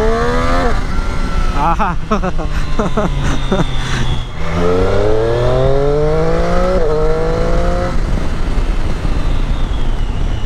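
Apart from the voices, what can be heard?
Triumph Street Triple motorcycle engine revving and exhaust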